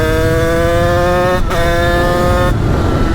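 A Honda HM 86 motorcycle with an aluminium top end, ridden close by, revs loudly and climbs in pitch through first and second gear, with two brief gaps at the gear changes.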